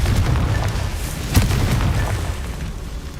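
Confringo fire-blast spell in the video game Hogwarts Legacy, a loud rumbling booming explosion with a sharp burst in the middle over a continuous roaring bed.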